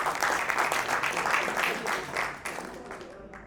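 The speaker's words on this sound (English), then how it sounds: "Let's give it a round of applause." An audience at a nursing school alumni anniversary gala gives a round of applause, dense steady clapping from a crowd that tapers off toward the end.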